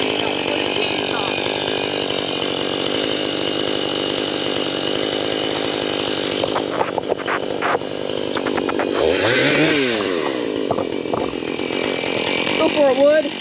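A chainsaw cuts through a fallen tree, its engine droning steadily throughout with revving surges and bogging as the chain bites into the wood, while people talk nearby over the noise.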